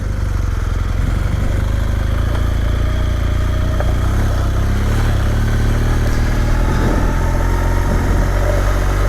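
A GS Rallye motorcycle engine runs steadily at close range in Andalusia, a continuous loud rumble with slight rises in revs and no voices.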